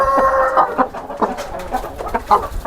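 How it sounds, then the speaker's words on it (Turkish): A hen clucks repeatedly in short, irregular bursts close by, with other fowl sounds mixed in and no talking. "İşte bu tavuğum, benim damızlık tavuğum."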